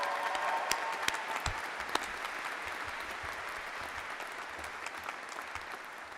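Audience applause at a University of San Francisco College of Arts and Sciences graduation ceremony, steady dense clapping from a large crowd lasting throughout, with no talk over it.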